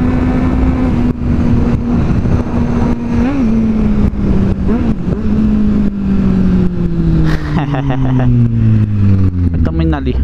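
A white Kawasaki Z750 motorcycle engine drones close by on a ride, its pitch rising and falling through gear changes and easing off near the end, with wind noise throughout.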